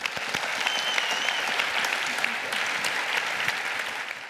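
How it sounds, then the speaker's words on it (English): Audience applause for a student panel at a Parsons School of Design admitted student day, a steady wash of many hands clapping close by with scattered sharper claps throughout. "let's give them a big round of applause."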